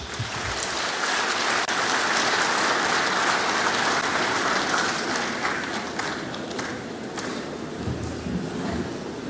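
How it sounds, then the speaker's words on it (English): Dense, steady applause from a large audience fills a conference hall at the Kenya Secondary Schools Heads Association annual convention, sustained at even loudness throughout with no clear voices on top. "another round of applause"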